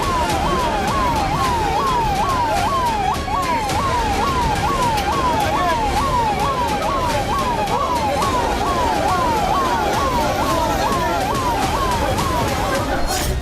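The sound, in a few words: ambulance siren arriving at hospital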